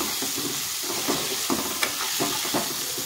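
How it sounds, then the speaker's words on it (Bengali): Potatoes fry in oil in a pan with salt and turmeric while being stirred, giving a steady bright sizzle with soft scraping strokes at a regular pace. "সুন্দরভাবে আমি আলুর সাথে একটু মিক্স করে নেব"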